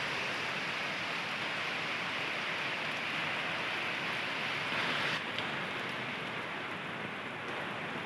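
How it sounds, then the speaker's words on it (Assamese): Heavy rain falling steadily for a long spell since morning, a dense, continuous loud hiss of downpour with no voices. "ইমানে বৰষুণ চাওক ইমান বৰষুণ ৰাতিপুৱাৰ পৰা বৰষুণ দিয়ে আছে"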